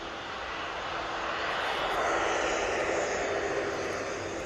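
A fast-moving airliner races down the runway at Manchester Airport, its steady broadband engine roar swelling slightly as it passes, loud and continuous with no talking.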